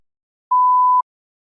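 A single clean electronic beep, steady in pitch and lasting about half a second, sounds alone in silence to mark the start of preparation time in a TOEFL practice test.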